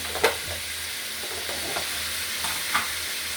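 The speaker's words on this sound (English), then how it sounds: "We're really just wanting to fry this up real good" Cabbage fries in a pan with a steady, close broadband sizzle, broken by a few sharp clinks and light stirring knocks.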